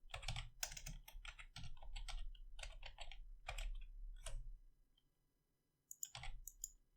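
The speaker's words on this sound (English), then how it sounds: "I will type in here." Rapid bursts of keystrokes clatter on a computer keyboard, quiet and close, in irregular runs with a pause near the end before a final short flurry.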